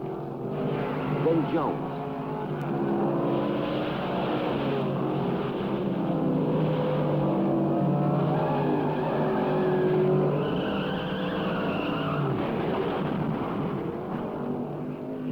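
Ford Mustang and AMC Javelin race cars roar around a track in a continuous engine drone, rising and falling as they pass. A commentator speaks over the noise throughout.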